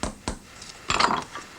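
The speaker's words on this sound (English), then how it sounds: "I knock the rivets down," Brass rivets on a Sheffield pen knife are knocked down with a hammer in a metalworking shop, giving a few sharp metallic taps spaced irregularly, close and clear, with no talking.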